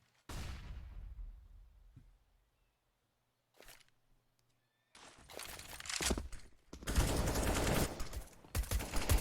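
Gunfire in a CS:GO pro match on the Inferno map during a pistol fight, starting with a sharp shot and burst, then quiet gaps, then loud dense bursts of shooting near the end.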